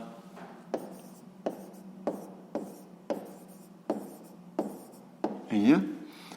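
A pen writes out a math solution in a string of short regular scratching strokes about every three-quarters of a second, close and clear, ending in a longer scribble.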